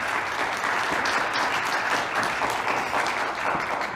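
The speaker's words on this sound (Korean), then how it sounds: "우리 율동팀 대단한 뜨거운 박수 한번 하겠습니다" A church congregation claps warmly for the worship dance team, a steady, full round of applause that holds evenly for several seconds.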